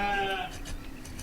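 A sheep in the village-building video game Banished gives a single short, wavering bleat, heard on its own with nothing else around it.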